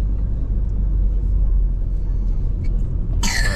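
A night traffic jam in Sambas, West Kalimantan, Indonesia, produces a steady low rumble of idling and slowly moving vehicles, close and continuous, with a brief bright clatter near the end.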